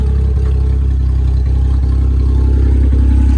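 A Subaru Justy engine idling loudly on a cold start with open headers and no exhaust, a steady, lumpy rumble with a rhythmic chugging pulse, close by and continuous.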